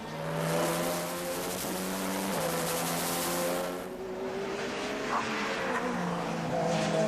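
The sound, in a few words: DTM touring race cars including Opel racing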